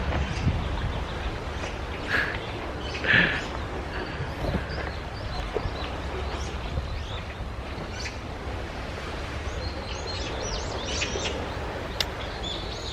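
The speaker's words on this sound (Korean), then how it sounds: "새소리의 귀를 기울여주세요" Birds chirp in scattered short calls along a walking trail on Jeju island, over a soft, steady outdoor wash like distant surf, with no one speaking.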